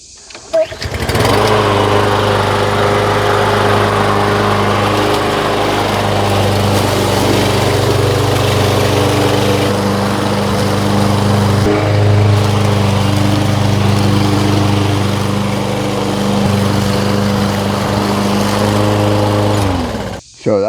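A Troy-Bilt lawn mower fitted with new replacement drive wheels runs steadily and loudly for about twenty seconds, its engine drone close and continuous with a strong low hum, starting up at the beginning and cutting off at the end.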